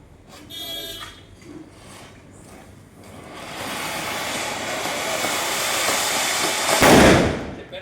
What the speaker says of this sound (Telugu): బాంబుల సౌండ్